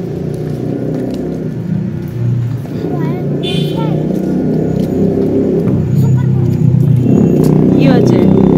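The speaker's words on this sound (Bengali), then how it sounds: "এত আওয়াজ গাড়িগুলোর যে কি বলবো" Loud street traffic with car engines rumbling and passing close by forms a dense, continuous roar, while a person talks nearly throughout over the noise.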